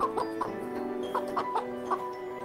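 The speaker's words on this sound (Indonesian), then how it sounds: "Sedangkan ayam menghasilkan anak dengan cara bertelur." A hen clucks in a run of short, soft, uneven clucks with brief pauses between them, heard alone at moderate distance.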